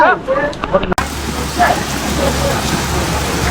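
Steady rain hisses loudly and evenly after a voice is briefly heard, then carries on alone as a dense wash during a tour through North Bengal.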